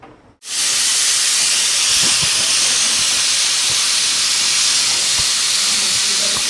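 Pressure cooker on the stove cooking a country chicken curry lets out a loud, sustained steam whistle that hisses continuously and steadily, with no talk over it.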